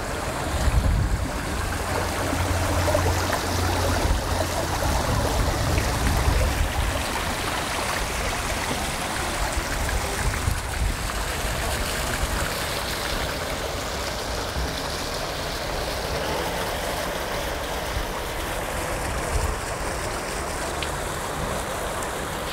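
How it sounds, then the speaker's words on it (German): Flowing, splashing stream water beside a walking path under an expressway in Essen-Kupferdreh in summer, a steady broadband rush that holds loud and even throughout with no talk. "Ich liebe fließendes, plätscherndes Wasser."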